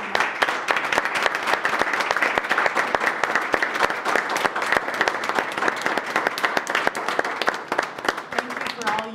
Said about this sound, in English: accept this little applause